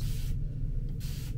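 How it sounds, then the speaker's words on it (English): Spray bottle misting water onto hair, two short hissing bursts separated by a pause, close and alone over a low background hum. "Second, spray bottle."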